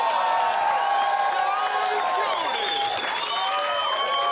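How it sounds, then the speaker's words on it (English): Studio audience in a comedy show applauding and cheering, a dense continuous roar of clapping with whoops and raised voices, loud and steady for the whole stretch. "You applaud if you think they won that debate."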